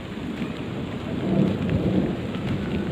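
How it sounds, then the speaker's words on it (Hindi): A thunderstorm with steady, close rain pattering on surfaces while a low roll of thunder swells in the middle and fades, with no voices. "बढ़िया बिजली चमक रही है अब"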